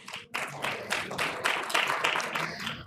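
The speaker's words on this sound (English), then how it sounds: "Please give a huge round of applause." Audience applause at the valedictory session of a Livelihoods India conference, a short burst of dense clapping from a crowd at moderate volume.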